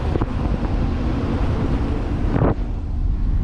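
Strong wind roars across the Mount Washington summit in New Hampshire, a steady loud buffeting on the microphone with one brief gust surge near the end, no voices.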